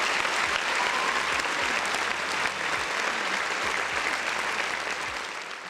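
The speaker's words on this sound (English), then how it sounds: "round of applause for everybody else in the chat" Steady, dense applause from a crowd fills the whole stretch, loud and continuous, easing off slightly toward the end.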